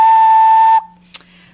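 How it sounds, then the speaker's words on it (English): A clay bird whistle shaped like a fat penguin is blown once, a steady, loud, pure whistle tone lasting under a second before cutting off, followed by a brief faint breathy click. "Make sure my whistle is working."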